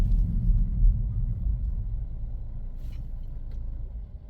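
A Ford EcoBoost engine fires back up after an automatic stop, a close, low rumbling idle that holds steady and fades slightly, with no talking over it.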